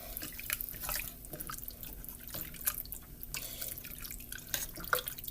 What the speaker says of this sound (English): I just put some chicken broth that I cooked with some water.